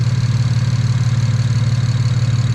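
A BMW 335is with a single-turbo engine idles close by, a loud, steady low rumble with an even, rapid pulse and no talking.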